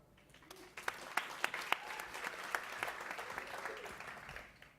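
Applause at a 2017 business awards ceremony for home-based business nominees, a few sharp claps at first that quickly swell into steady, moderately distant clapping from the audience.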